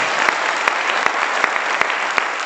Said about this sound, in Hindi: दोनों हाथ ऊपर करके जोरदार तालियों से आपका स्वागत है